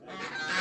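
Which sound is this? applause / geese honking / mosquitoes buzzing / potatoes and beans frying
geese honking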